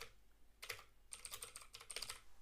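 Quiet taps of a computer keyboard as a command is typed, with one brief burst and then a quick run of keystrokes.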